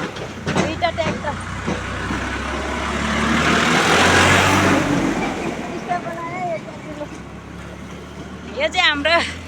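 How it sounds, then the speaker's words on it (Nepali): A tractor on a village road approaches and passes, its engine rumble swelling to a broad roar mid-way and then fading, with people talking at the start and end. "यहाँ ट्र्याक्टर पनि आउँदैछ।"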